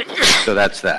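A single quick sneeze rings out during a committee meeting on energy and climate, followed at once by a person speaking.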